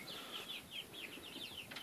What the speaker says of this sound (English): Still got their little baby peeping sound